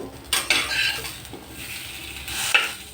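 A spatula scrapes and clinks in a pan while sweet potato slices are flipped, a few sharp close metallic knocks over soft sizzling, no talking.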